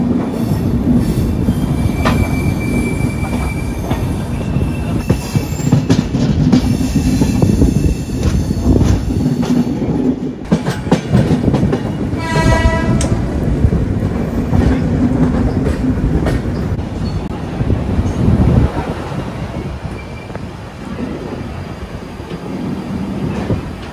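The Mumbai to Howrah Duronto Express running at speed, a loud continuous rumble of rolling wheels and rattling coaches with brief squeals and clacks, heard from inside the train with no talk.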